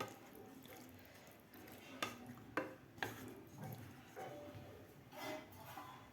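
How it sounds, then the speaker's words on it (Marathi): Soft scraping and a few light clanks of a spoon stirring broccoli in a pan after water is added, quiet and intermittent with faint sizzling underneath. "व्यवस्थित हलवून घ्यायचं आपल्याला पाणी घातल्यानंतर"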